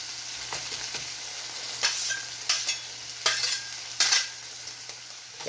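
Beef, bell peppers and onions sizzle steadily in a reducing sauce on a Steelmade USA flat top griddle, with several louder scraping stirs of a spatula cutting through the constant frying hiss.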